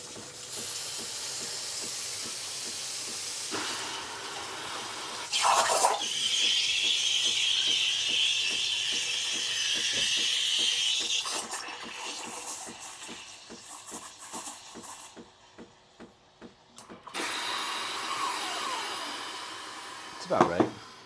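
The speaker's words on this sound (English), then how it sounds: "waiting for the steam to come out" Steam hisses out during a home coffee roasting session, a sustained broadband rush that comes and goes in long loud stretches of several seconds, with quieter handling and shuffling noises between bursts.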